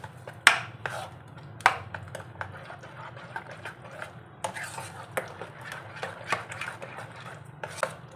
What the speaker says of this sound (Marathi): आता आपल्याला हे जे आहे ते व्यवस्थित मिक्स करून घ्यायचं आहे।